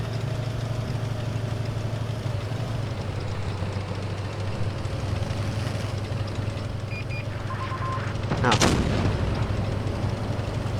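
A tank cannon fires in World of Tanks Blitz: one sharp, loud blast bursts out late over a constant droning engine idle, with no voices present.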